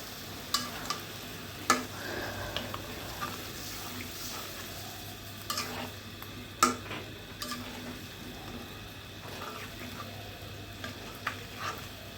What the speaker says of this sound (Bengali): সবজিগুলো ভালোভাবে কষিয়ে নিব